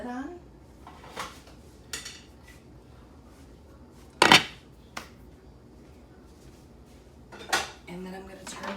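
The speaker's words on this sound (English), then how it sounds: "I'm gonna throw the lid on." A lid is set onto a slow cooker during meal prep, a sharp clank of the lid against the pot amid lighter utensil clinks and knocks in a quiet kitchen.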